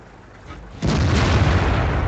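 A Ferdinand tank destroyer blows up in a tank battle game: after a quiet stretch, a sudden heavy blast hits and sustains a loud, broad roar for over a second.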